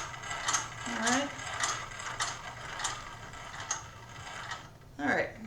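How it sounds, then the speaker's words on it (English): A bobbin is wound for a weaving loom, giving a quiet, regular ticking and ratcheting mechanism sound with a steady low hum, and a few brief faint vocal sounds over it. "that's basically the winding of the bobbin there before we get started back onto the loom"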